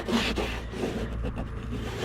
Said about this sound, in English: I'm going to try taking my sanding block and real lightly seeing if I can get that off